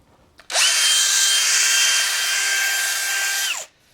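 Metabo PowerMaxx BS 12 BL Q 12V cordless multi-head drill/driver runs at a steady whine for about three seconds, starting and stopping abruptly, close and loud with no talk.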